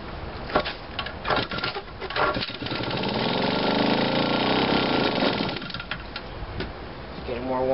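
A gas engine being test started: several sharp cranking knocks and sputters, then a steady loud running rumble that holds for a few seconds before easing off, with a voice briefly audible near the start.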